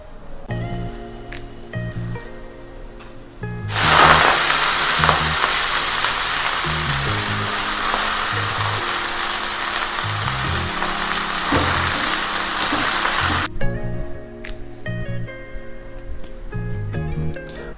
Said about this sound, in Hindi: तो मैंने कढ़ाई चढ़ा दी है, तो इसमें थोड़ा तेल डालते हैं और साथ ही साथ हरी सब्जी भी बना देते हैं